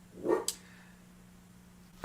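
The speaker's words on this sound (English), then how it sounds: "there are dogs playing in the park and she wants to be there playing with them. So you might hear some barks." A single dog barks once, moderately close but fairly quiet, toward dogs playing in a park, followed by a long steady low hum and a sharp sound at the very end.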